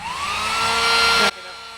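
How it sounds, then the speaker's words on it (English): A heat shrink gun blows hot air onto tubing during a campervan solar and electrical install. It makes a steady, close, loud rushing whoosh with a faint rising whine, then cuts off abruptly before the end. "And then we use our heat shrink gun."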